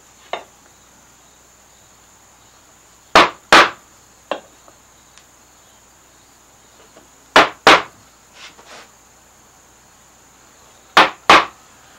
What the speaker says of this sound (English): So now just some chisel work in here